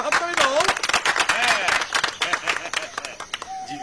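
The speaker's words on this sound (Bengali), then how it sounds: "সবাই যারা হাততালি দাও" Scattered clapping and applause from a gathered crowd at a village celebration of a father's 90th birthday, moderately loud and mixed with excited voices and talk.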